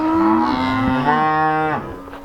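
A single long, loud cow moo close by, a deep drawn-out bellow that rises and then falls away at the end.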